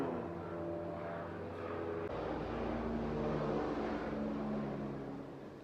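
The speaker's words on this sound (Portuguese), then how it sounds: "Som de helicóptero, viu? O helicóptero tá torando aqui." A helicopter flies nearby, making a steady droning engine hum with a rising rush of rotor noise partway through, loud and sustained, with no speech.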